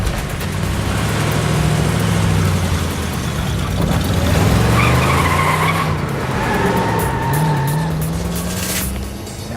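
Car driven fast with tires squealing and skidding over a revving engine, loud and close, with several drawn-out squeals rising and falling across the stretch and no voices.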